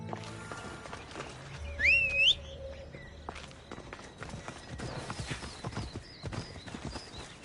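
Horse hooves clip-clop steadily in a video game, a regular mid-distance rhythm of hoofbeats, with a brief loud whinny near the start and faint game sounds around it.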